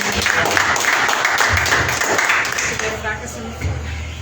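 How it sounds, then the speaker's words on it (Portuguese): A church congregation claps for Jesus during a worship service, a moderate, fairly steady patter of many hands, thinning toward the end, with voices mixed in. "Dá uma salva de palmas para Jesus."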